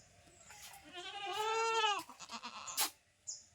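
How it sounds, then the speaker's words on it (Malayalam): A goat at a home in Kerala gives one drawn-out, wavering bleat that rises and falls, then a few shorter bleats and small noises follow, all fairly close and with no one talking. "ഇവിടെ ഞങ്ങളുടെ ആടുണ്ട്."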